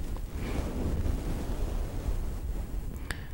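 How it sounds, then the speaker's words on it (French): A steady whooshing, surging rush like ocean surf, close and continuous, made by rubbing a microphone cover, with a few faint clicks near the end. "Tu peux imiter un peu le bruit des vagues"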